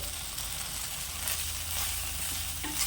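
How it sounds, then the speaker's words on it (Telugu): Bitter gourd pieces frying lightly in a little oil give off a soft, steady sizzle and hiss, faint and close, with a small stirring clatter near the end. "లైట్గా ఫ్రై అవ్వాలండి కాకరకాయ ముక్కలు అనేవి."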